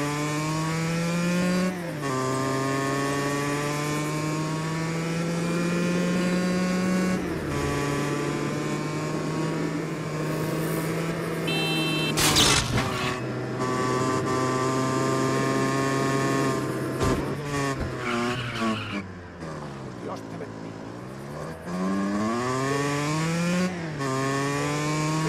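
A motorcycle engine in the video game Just Cause 3 drones loudly and continuously, revving up and down with shifting pitch, including a sharp burst and a dip as it slows before picking up again.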